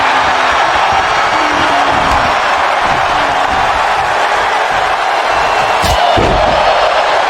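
A dense, steady roar of a wrestling arena crowd from the WWE 2K25 video game, broadband and loud throughout, with a brief sharp slam-like hit near the end.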